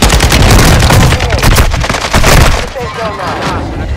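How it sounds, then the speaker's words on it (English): Explosive gunfire and blasts during a friendly mortar strike in Call of Duty: Modern Warfare II, loud and dense throughout with rapid bursts, easing slightly toward the end. "Friendly mortar strike inbound."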